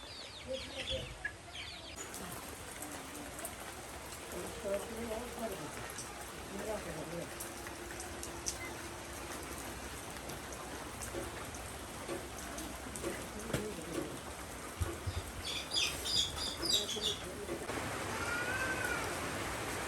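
Heavy rain falls outside as a constant wash of patter under a voice, while chickens cluck and call nearby during a rainy-day cooking session over a clay stove.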